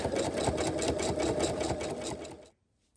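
Sewing machine running steadily as it stitches a straight line down the length of fabric, a continuous close mechanical whir that stops abruptly near the end, followed by a brief click.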